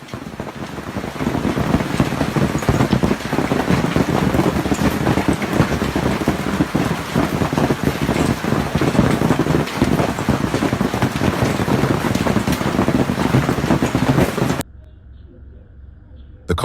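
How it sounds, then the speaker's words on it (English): Loud, dense pattering and roaring noise of a sudden hailstorm pelting surfaces in Canberra streets, constant and heavy before cutting off abruptly near the end. "A sudden hailstorm hit Canberra"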